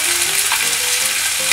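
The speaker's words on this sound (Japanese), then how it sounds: "強火から中火に戻して炒めていきます" Napa cabbage and vegetables stir-fried in oil over medium heat give a loud, steady close sizzle with stirring sounds throughout.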